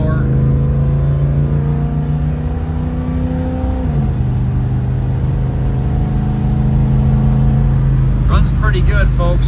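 A 1973 Plymouth Scamp with a 318 engine and automatic transmission runs steadily at close range, a firm low drone that drops in pitch partway through, with brief sharp knocks near the end.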